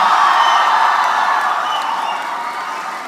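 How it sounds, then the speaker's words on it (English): An audience at a university convocation applauds a first PhD graduate from the Faculty of Management and Commerce, a dense, steady wash of clapping that slowly fades over a few seconds. "This is the first PhD from the Faculty of Management and Commerce, so it deserves this kind of applause."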